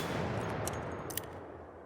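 An Anvil gun with no attachments fires in the ARC Raiders video game, giving a loud, booming shot with a broad rumbling tail that fills the short stretch, with a couple of sharp clicks on top.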